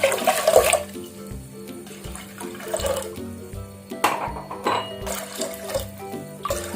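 Water poured into a pressure cooker while making sweet pongal: a close, continuous splashing pour that swells and eases in a few surges over a low background hum.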